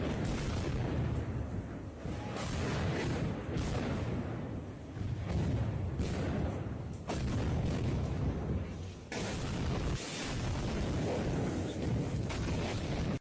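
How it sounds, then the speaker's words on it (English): Rocket barrage and incoming artillery in wartime Ukraine, recorded outdoors: a series of heavy, rumbling booms and blasts rolls in over several seconds, some distant and some sharper, with sustained roaring between impacts. "I think this is a rocket barrage."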